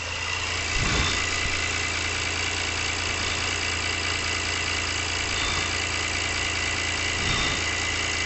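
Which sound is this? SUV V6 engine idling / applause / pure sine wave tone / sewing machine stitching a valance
SUV V6 engine idling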